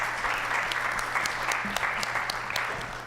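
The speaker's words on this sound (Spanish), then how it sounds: "un aplauso." An audience at a forum on sustainable development data claps steadily in a dense round of applause, close and fairly loud, with almost no talk over it.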